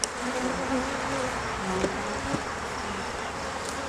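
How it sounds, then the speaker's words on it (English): Dense, steady buzzing of many honey bees in a hive just opened after winter, its top spacer removed; the hum fills the whole clip close and continuous, with a few louder passes of individual bees and no talking. "you can see a lot of bees here right now"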